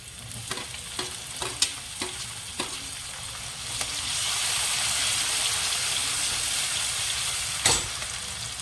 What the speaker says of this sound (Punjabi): ਇਹਦੇ ਵਿੱਚ ਹੁਣ ਅਦਰਕ ਐਡ ਕਰੂਗੇ